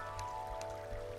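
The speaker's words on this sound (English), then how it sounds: "Okay, it's raining, it sounds like." Rain falling in the video game Terraria, a faint soft patter with a few light drips over a steady humming game background, no talking.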